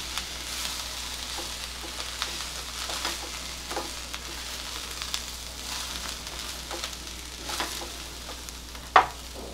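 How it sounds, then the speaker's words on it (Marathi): Frozen peas being stirred into a cabbage curry frying in a pan, a steady sizzle beneath repeated scraping strokes of a spoon, with a sharper clack of the utensil near the end and no talking. "सगळं मिक्स करून घेऊया एकदा।"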